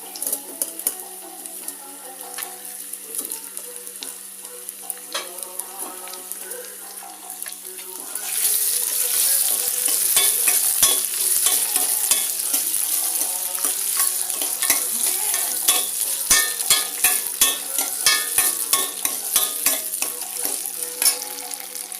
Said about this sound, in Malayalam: അപ്പോൾ നമ്മൾ അരിഞ്ഞ് വെച്ചിരിക്കുന്ന നെല്ലിക്ക അതിനകത്തോട്ട് ചേർത്ത് കൊടുക്കാം.